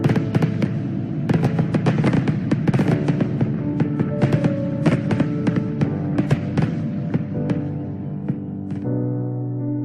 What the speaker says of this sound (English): simulated fireworks.